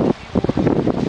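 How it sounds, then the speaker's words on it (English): Strong wind at West Thumb in Yellowstone buffeting the microphone in loud, irregular gusts and rumbling bursts that blot out other sound. "you guys probably can't hear me because it's so windy"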